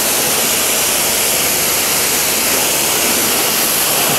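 A scooter is being washed with a loud, steady spray of water that roars as broad continuous hiss for the whole stretch, close and unbroken, with no talk.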